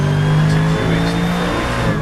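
GT3 race cars, a Nissan GTR closing on a Mercedes at Brands Hatch, roar loudly with a steady high engine drone and a brief gear change midway, close and continuous with no talk.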